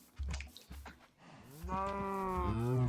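Minecraft cows in a modded survival world let out a long, drawn-out moo with stacked harmonics, loud and close, after a few short low thumps and brief indistinct sounds.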